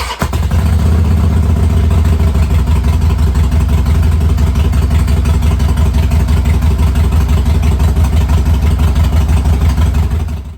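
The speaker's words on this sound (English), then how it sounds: "it's an excuse to start the bike because I love the way that it sounds." A 2010 Harley Davidson Sportster 883R engine fires up and settles into a loud, close, lumpy idle with a steady throbbing rhythm, running alone for about ten seconds before shutting off.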